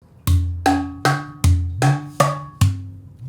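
A Takeda drum plays a varied rhythmic pattern of six close, ringing strikes at slightly uneven spacing, the pitch of the hits shifting between strokes, heard alone with no voices.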